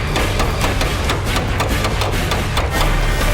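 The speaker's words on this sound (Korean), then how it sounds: "망치로 두들겨 가장자리 면의 각도를 살려내는 작업자" Hammer beating the edges of a sheet metal car body panel to restore its angle, a rapid steady series of sharp metallic strikes over a constant workshop din.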